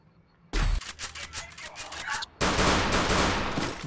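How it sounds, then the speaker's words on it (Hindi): A gun fires in rapid bursts in the game Free Fire Max, with a dense string of loud close shots, a brief pause, then a sustained roaring volley of continuous gunfire. "कैसे गोली धड़ाधड़ निकलता है।"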